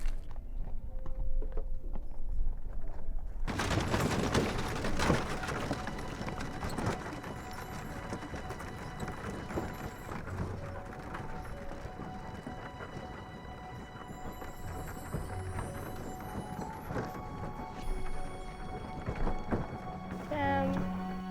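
Horses hauling wagons along a trail in a video game: a steady, continuous clip-clop of hooves with rolling wagon noise and an ambient backdrop that runs throughout after a quieter opening few seconds.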